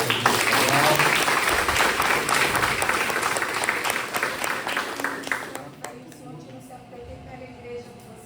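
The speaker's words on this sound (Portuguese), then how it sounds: "Dá um forte aplauso ao Senhor." A church congregation at a Sunday service claps loudly and densely for several seconds, then the applause thins and fades to scattered claps and quiet murmuring voices.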